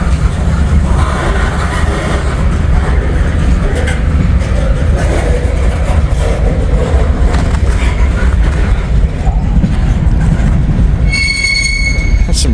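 CSX freight train with empty truck-frame cars rolls past close and loud at the trackside, a continuous rumble of wagons with wheel squeal and rail clatter, sharp high squealing near the end.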